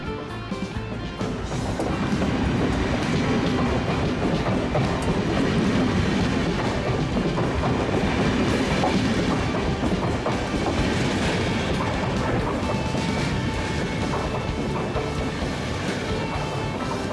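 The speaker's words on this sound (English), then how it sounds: "impression of a train journey to and through Switzerland" A train rolls steadily along the rails in Switzerland, a continuous rumble with rhythmic clickety-clack from the wheels, close and loud for the whole stretch.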